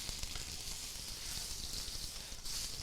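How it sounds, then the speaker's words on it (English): Rack of lamb sizzles in a hot pan with olive oil, a steady crackling hiss with small pops, fairly quiet and close, with no voices. "That flame sizzle."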